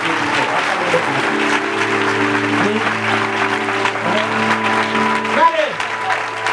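A church congregation at a Sunday worship service claps steadily throughout, with sustained musical tones and voices running underneath the applause.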